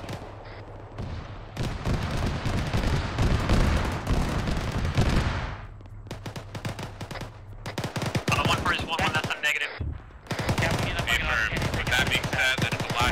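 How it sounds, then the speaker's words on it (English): Bursts of automatic gunfire and sharp rifle shots crack through an ArmA 3 firefight, loud and close, in repeated clusters with brief gaps between them. "I'm currently under fire."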